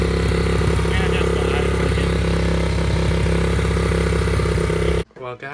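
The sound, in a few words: Baja Motorsports dirt bike engine running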